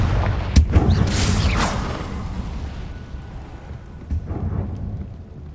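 Confringo explosion spell cast in Hogwarts Legacy: a sharp blast opens into a heavy rumbling boom, followed by rolling, crackling debris that fades and then flares briefly again.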